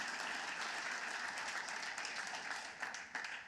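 A church congregation gives sustained loud applause, a dense even wash of clapping that tapers slightly near the end.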